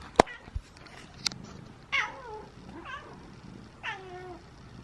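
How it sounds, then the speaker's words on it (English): A cat meows several times, three drawn-out vocal calls spaced about a second apart after a couple of sharp knocks, fairly close in a quiet room. "Meow, meow."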